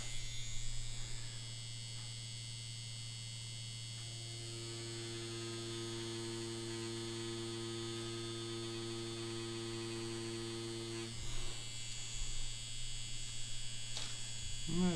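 A Yilong F5 wireless tattoo pen runs at 9 volts, making a steady electric buzz that holds for the whole stretch, with its tone shifting briefly near the start and again toward the end.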